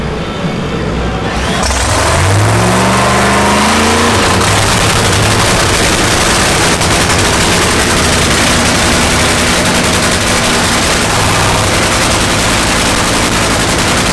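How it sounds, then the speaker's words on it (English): A loud, raw drag racing engine roars to life and revs hard, its pitch sweeping up before settling into a sustained, crackling, rapid-fire idle that fills the whole stretch. "So they've run the engine,"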